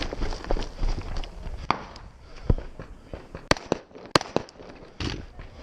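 Rifle and pistol shots at a two-gun action shooting match outdoors: a series of sharp, loud reports at irregular intervals, with quieter movement and footsteps between them.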